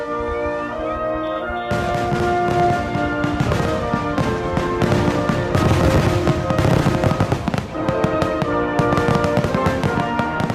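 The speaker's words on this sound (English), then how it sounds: "John Adams is credited with the tradition of celebrating the birth of the United States with fireworks" Fireworks explode in a loud, dense barrage of crackling bursts and booms, starting after a brief quieter musical tone and continuing steadily with overlapping blasts.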